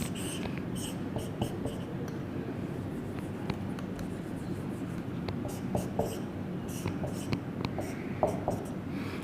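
Chalk or marker writing on a board while a chemical structure is drawn during an organic chemistry lecture: quick scratchy strokes and taps, close and soft, over a constant room hum.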